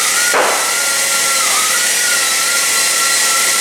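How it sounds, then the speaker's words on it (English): An angle grinder works steadily on metal parts of a 1958 bike, a loud continuous high-pitched whine with a brief sharper burst as the disc first bites. "And I just use the grinder again"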